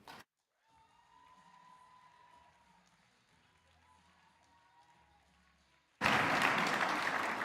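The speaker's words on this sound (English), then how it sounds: "It's not often I get a round of applause at work, so that was lovely." Audience applause at an awards ceremony, a loud burst of clapping that starts abruptly near the end after a quieter stretch with a voice talking.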